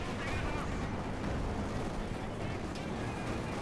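Fear Propaganda Artillery barrage in Company of Heroes 2, a continuous low rumble of distant booms and crackling blasts heard faintly, with no clear talk over it.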